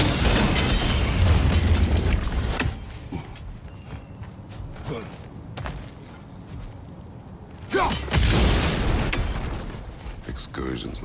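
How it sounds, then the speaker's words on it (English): An explosion in the video game God of War Ragnarok, a deep booming burst with crackling debris, swelling loud near the start and again around the eighth second, with a voice talking over the game sounds. "The wee bastard's about to explode!"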